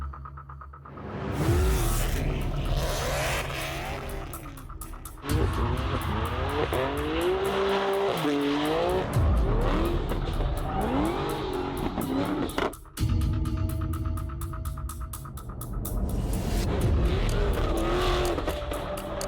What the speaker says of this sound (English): They're just driving cars.